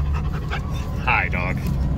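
A dog pants close by in quick, breathy bursts, with a couple of short whiny yips partway through, over low engine-like background noise.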